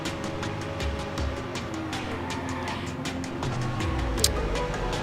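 Car engine drone from driving in the video game Watch Dogs, a steady low rumble running throughout with loud background music and a brief sharp click near the end.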